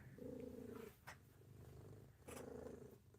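A close, steady purr from a 13-year-old cat with a rhythmic in-and-out rumble, quiet and continuous, with faint background noise.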